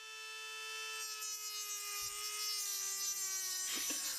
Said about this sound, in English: Here I am grinding off the ABS brackets that are on the axle.